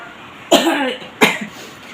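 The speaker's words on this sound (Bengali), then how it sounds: "কাশি আসার কারণটা তোমাদের বলছি" Two sharp, close coughs about half a second apart stand alone, each a harsh burst trailing off quickly.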